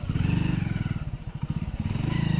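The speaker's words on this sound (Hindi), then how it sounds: "तो भाई अपन ना बाइक अपने कर रहे हैं अपने अंदर" A motorcycle being moved indoors, with a rapid rhythmic low ticking or clattering pulse, close and continuous, plus faint scraping and no speech.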